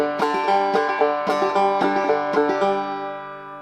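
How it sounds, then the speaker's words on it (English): Clawhammer banjo playing the basic bum-ditty frailing strum, a steady repeating pattern of bright plucked notes and brushed strums, close and clear with no voice. "So it's called the bum ditty, the basic frailing strum, the basic clawhammer technique, the basic right hand pattern."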